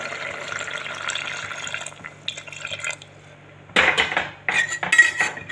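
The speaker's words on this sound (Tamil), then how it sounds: "நம்ம தண்ணி அரிசி கலந்த தண்ணி நான் எடுத்து வச்சுருக்கேன், அதை ஊற்றிக்கலாம்." Rice-rinsed water is poured into mutton cooking in a pot for a Tamil mutton kulambu, with close liquid splashing and trickling, metal pot clinks, and a louder burst of pouring near the end.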